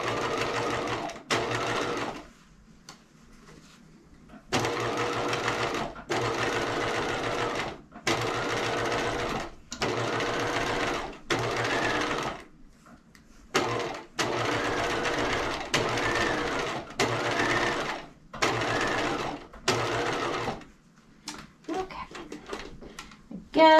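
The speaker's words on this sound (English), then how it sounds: "now we're going to do a second row of gathering stitches, those long 5mm stitches at a 1/4 inch seam allowance" A sewing machine runs in repeated bursts while sewing long 5mm gathering stitches on doll clothing, each run lasting a couple of seconds with short pauses between, fairly quiet with faint talk in places.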